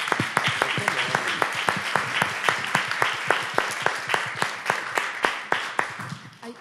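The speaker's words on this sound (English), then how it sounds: "Maybe we can give her a round of applause as well." A room full of people applauds at a queer cinema panel talk at the Berlinale festival, dense sustained clapping with sharp individual claps standing out, continuous throughout.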